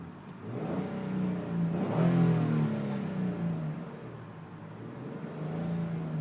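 A 2002 Hyundai Santa Fe V6 4WD engine revs up from idle in short bursts, a mid-pitched rising engine note swelling and falling back, heard fairly close on a cold day with no talk.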